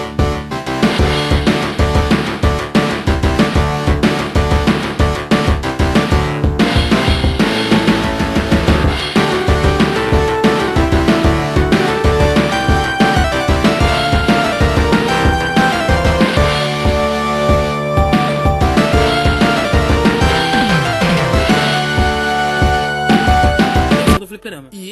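Arcade version of Street Fighter 2 Champion Edition plays its video game music: loud, dense synthesized melody over punchy drums and bass, continuous and steady throughout without any talking.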